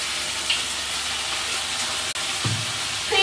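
Vinegar poured into a pan of frying onion and green chili paste, giving a steady close sizzle and hiss with a brief louder spurt partway through.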